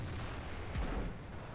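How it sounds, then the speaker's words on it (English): A tank cannon shot strikes a T-30 turret in World of Tanks, heard as a single deep boom in the middle over a steady low engine rumble. "That was a lucky shot on the T-30's turret cheeks"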